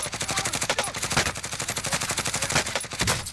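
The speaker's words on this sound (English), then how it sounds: "We're getting shot from behind now." Sustained rapid gunfire in the Call of Duty Warzone battle royale, loud and close, with rhythmic bursts of shots pulsing steadily throughout.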